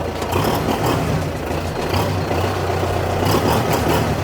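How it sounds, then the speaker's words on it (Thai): A Kubota M6040SU tractor's four-cylinder turbo engine runs nearby, giving a loud, steady low rumble with a constant hum that holds throughout. "ตัวนี้เป็นเครื่องยนต์ 4สูบเทอร์โบนะครับ6ดแรงม้านะครับ"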